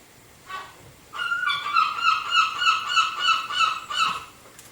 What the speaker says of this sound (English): Welcome to the seagulls.